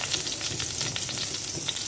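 Dried red chillies, green chillies, cloves and a piece of cinnamon fry in oil in a pan, giving a steady, close, crackling sizzle with light stirring scrapes and no voices.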